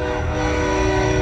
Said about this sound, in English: Somebody has a train whistle.